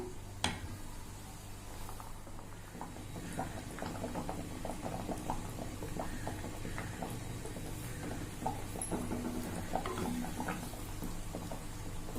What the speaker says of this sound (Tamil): இப்பதான் கொதிக்க ஆரம்பிச்சிருக்கு